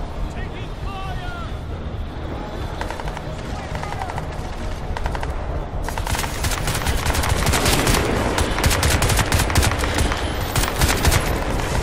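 Gunfire in the Crysis 2 video game, sparse at first and then sustained rapid bursts of automatic fire, loud and close, with shouting voices over it.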